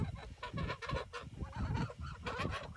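Geese honk and cackle continuously on a homestead, a dense overlapping chorus of raucous calls heard close and fairly loud, with other poultry mixed in.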